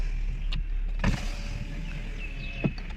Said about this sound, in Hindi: ये देखिए सारे शीशे नीचे हो गए।